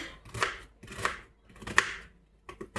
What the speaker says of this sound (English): now I'm going to cut up the onion